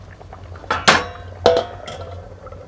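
A metal lid clanks shut onto a pot of lake kendai fish curry, with two sharp clatters close together and a lighter clink after them, then quiet.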